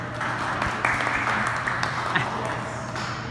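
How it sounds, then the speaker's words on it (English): A small group applauds a prize winner at a workplace award presentation, continuous clapping with a steady background hum, moderately close. "Please give him nice applause."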